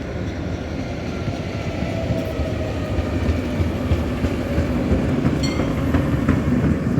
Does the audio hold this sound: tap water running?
no